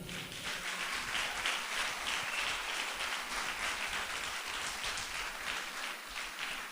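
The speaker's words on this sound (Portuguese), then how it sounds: "Quem entendeu, dê um aplauso ao Senhor." A church congregation applauds in praise of the Lord, a broad wash of many hands clapping continuously, fairly quiet and distant, steady throughout with no voices on top.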